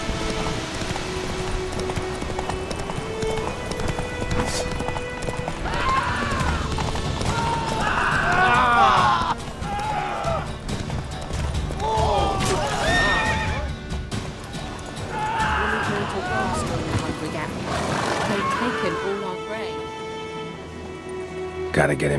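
Roach, Geralt's horse in The Witcher 3 video game, neighs and whinnies several times over clip-clopping hooves, with game ambience throughout.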